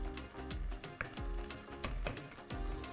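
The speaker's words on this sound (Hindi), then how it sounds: "दही भुन रहा है, तेल छूट रहा है" Masala with yogurt frying in hot oil for a dal tadka, a continuous close sizzle broken by several sharp spatula stirs and scrapes against the pan.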